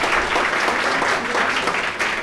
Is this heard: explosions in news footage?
no